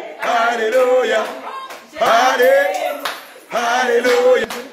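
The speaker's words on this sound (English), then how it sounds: "Clap your hand for Jesus, Almighty God." A worship congregation claps hands in scattered beats beneath loud, sustained group singing or chanting that rises and falls in three swells.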